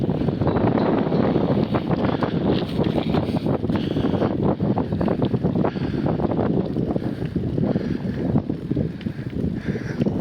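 Strong wind gusting along a coastal street in Şarköy in November, buffeting the microphone with a constant loud roar and rumble for the whole stretch.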